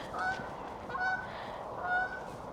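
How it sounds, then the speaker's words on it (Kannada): Geese honk in three loud bursts as they fly past at Derby Marina in the UK during a sunset evening, nearby and clear over a low outdoor hum, with no talking. "ಆ ಬರ್ಡ್ಸ್ ಎಷ್ಟು ಚೆನ್ನಾಗಿ ಸೌಂಡ್ ಮಾಡ್ಕೊಂಡು ಹೋಗ್ತಿದೆ."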